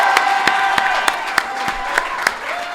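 An audience claps for a singer at a Casablanca battle event, steady applause with regular sharp claps standing out, fairly loud and close.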